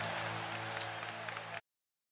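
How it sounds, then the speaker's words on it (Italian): Crowd applause in the video game Hi-Fi Rush, a steady wash of many hands clapping that fades in evenly and then cuts off abruptly. "Dai, applausi."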